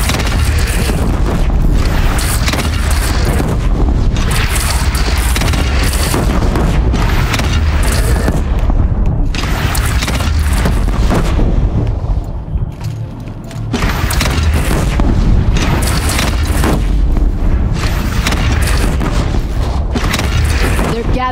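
Heavy booms and crashing impacts of cannon fire rage in a Horizon Zero Dawn battle at a bridge, loud and continuous with dense clatter and rumble, voices shouting over the din.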